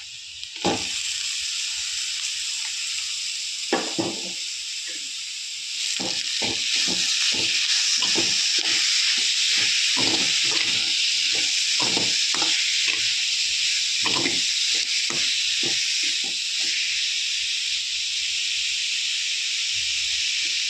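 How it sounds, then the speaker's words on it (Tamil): Chopped beetroot sizzles in a pan with sautéed onions, a steady hiss of frying under repeated scraping and stirring clicks from a spoon, growing slightly louder partway through. "இப்போது வெங்காயம் நல்லா வதங்கி வச்சு நம்ம பீட்ரூட் போட்டுக்கலாம்"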